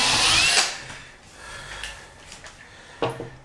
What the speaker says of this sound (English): Also taking a bit of paint off there with a drill.